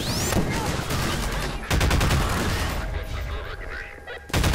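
Rapid bursts of gunfire from the video game Half-Life 2, loud and close, with dense volleys that break off and then resume in a second heavy salvo.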